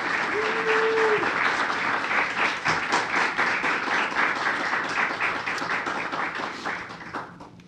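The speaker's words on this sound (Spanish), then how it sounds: "quería hacer un aplauso primero para todos que ayudaron con esa" A conference audience claps steadily for the event's helpers. The applause is loud and sustained, a dense wash of many hands with no talk over it, and it tapers slightly at the very end.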